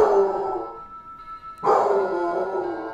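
Moose, a pet dog, barking at the door: two loud, close bursts of deep barking with a short gap between them, the second starting abruptly and ringing on.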